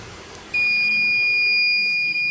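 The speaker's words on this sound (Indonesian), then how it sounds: "Buzzer berbunyi dan LED juga menyala" After a short quiet lead-in, the buzzer of an MQ-2 LPG gas leak alarm, set off with a gas lighter, sounds a loud, continuous high-pitched tone that holds steadily to the end.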